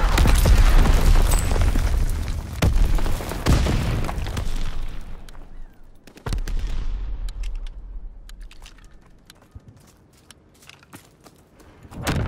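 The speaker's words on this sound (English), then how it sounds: "Enemy mortar fire incoming!" Enemy mortar shells explode in Call of Duty WW2 during a ranked capture-the-flag match, a series of heavy booming blasts with rumbling decay, loud and close, easing into scattered crackles.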